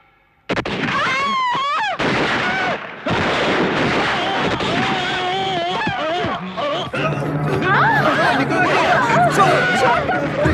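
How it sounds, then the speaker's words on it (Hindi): Bursts of gunfire crack through a loud, tense scene while several people shout and talk over one another throughout. "अरे गोली चल रही है"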